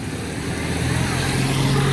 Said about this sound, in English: Got a traffic jam